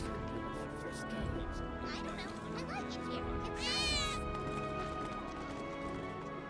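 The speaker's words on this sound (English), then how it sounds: "Wait, did you hear that just now? I think one of Betty's cats might be nearby." A cat meows briefly in Final Fantasy VII Remake, a short rising cry near the middle of a steady in-game ambience, with voices talking around it.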